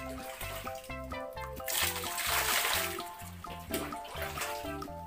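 Water poured over a toy sand truck, splashing and trickling steadily onto a hard surface, with background music playing throughout.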